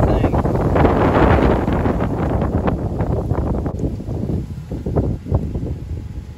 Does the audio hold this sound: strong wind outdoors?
yes